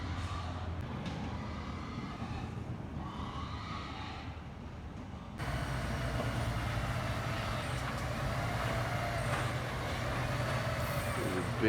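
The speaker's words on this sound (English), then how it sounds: "There's a big truck." A heavy truck rumbles past nearby, a loud, steady roar of engine and road noise that swells partway through and stays strong.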